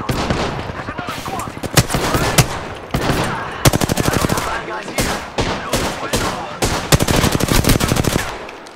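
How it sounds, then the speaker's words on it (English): Gunfire in the Apex Legends video game: loud, close bursts of rapid automatic shots that repeat in clusters for several seconds, with players' voices talking over the shooting. "Just getting shot at."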